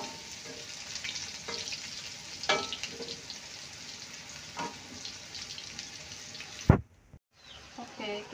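Tempe frying in a pan of oil for pecel Ponorogo: a steady close sizzle with small crackles and pops, ending with a sharp clunk and brief silence before the sizzling softly resumes.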